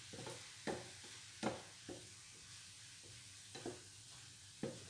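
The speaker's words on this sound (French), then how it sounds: "je vais venir remélanger mes champignons pendant ce temps-là" Mushrooms are stirred in a frying pan, with a soft sizzle and about six quiet scraping strokes at uneven intervals, heard up close with no talking.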